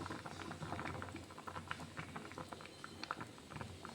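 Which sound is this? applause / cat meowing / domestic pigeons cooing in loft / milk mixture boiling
milk mixture boiling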